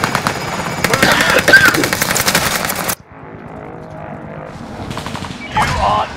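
Rapid machine-gun bursts in the Warzone video game rattle loudly for about three seconds, then stop abruptly and give way to quieter in-game sounds.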